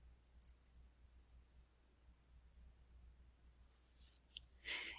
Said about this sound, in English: and then clicking on Go.